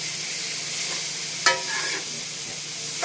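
Bok choy, yellow and orange peppers and red onion being stir-fried in a pan, a steady soft sizzle with a sharper scrape or clatter of stirring near the middle, close and continuous.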